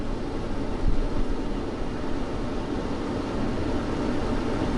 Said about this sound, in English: It sounds like a normal dryer.